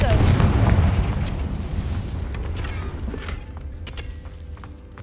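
A Confringo blasting spell in Hogwarts Legacy goes off with a loud, rumbling explosion that booms at the start and tails off into a long, fading roar.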